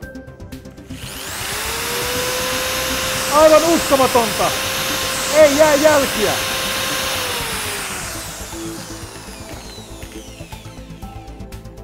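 An electric drill whirs against a phone screen protector, a loud steady high-pitched drone starting after a second and running about seven seconds with grinding bursts, then spinning down; a voice speaks over it.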